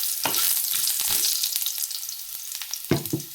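Mustard seeds and garlic crackle and fry in hot oil in a home kitchen pan, a soft continuous sizzle punctuated by sharp spitting pops and stirring clatter, close but fairly quiet, with no talking.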